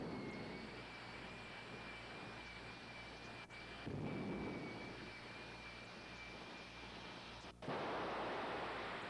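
The J79 jet engine of a jet-powered Kenworth truck at a drag strip at night roars in a steady, distant wash of noise with a thin high whine, surging louder twice after brief dips.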